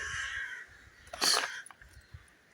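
A crow gives a loud, harsh caw partway through, with fainter bird calls and light rustling around it outdoors, during the demoulding of a large gargoyle statue.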